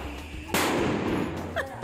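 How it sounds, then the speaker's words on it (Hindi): A firecracker bursts with a sharp, loud bang during Diwali celebrations in a street where children set them off, its crackling tail ringing out briefly before another faint pop. "हमारे घर के बच्चे एंड गली के बच्चे मिल के पटाखे चला रहे हैं"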